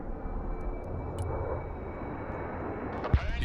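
A plane's aircraft engine drones steadily in the video game Broken Arrow, a moderate, continuous hum that stays fairly even before a brief sharper thump near the end.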